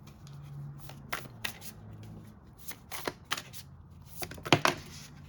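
Oracle cards from the Whispers of Love deck being shuffled by hand, quiet rapid riffling bursts and soft slaps scattered over several seconds, close and intimate.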